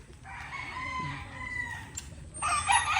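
Hens cluck and a rooster crows close by, with a sharper burst of clucking toward the end, over a quiet outdoor background.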